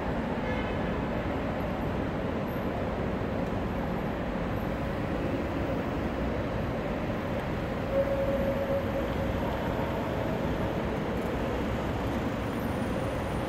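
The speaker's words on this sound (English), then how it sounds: "Electric train." An AVE electric train arriving at Atocha Station, Madrid, gives a low, steady rumble, continuous and fairly loud, with a brief faint whine partway through and no voices.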